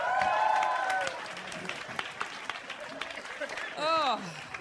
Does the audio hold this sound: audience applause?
yes